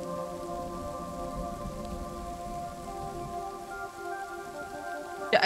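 Rain falling onto water in Kingdom Two Crowns, a steady soft patter and hiss of drops, moderate in level, with sustained musical tones layered over it and a brief sharper burst at the very end.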